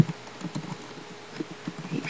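Soft, irregular clicks of fingers typing on a computer keyboard, light and fairly close over a steady background hum.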